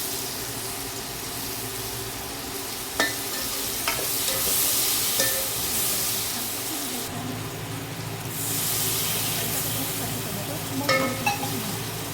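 Chopped onion sizzles in a pan as chilli powder and turmeric are added for dal dhokli, a steady frying hiss broken by a few sharp spoon taps and stirring scrapes, no voices.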